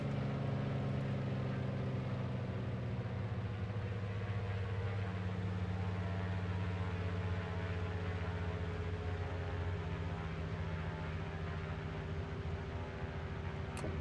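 Twin big radial engines of a Grumman JRF-6B Goose seaplane drone steadily on a landing approach in MSFS 2020, a constant deep hum with layered harmonics, unbroken and without voices.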